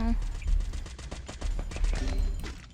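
Rapid bursts of automatic gunfire from a Free Fire battle royale match crackle in quick repeated pops, fairly close, with a voice talking over parts of it.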